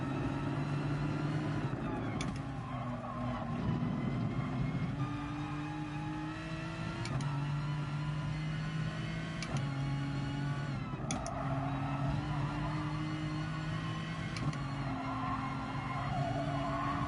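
GT3 race car engine lapping the Nordschleife in the racing video game Gran Turismo Sport, a steady loud drone with pitch rising through gears and dropping at shifts, plus tyre squeal, continuous throughout.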